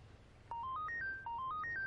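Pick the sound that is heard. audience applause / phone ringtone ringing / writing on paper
phone ringtone ringing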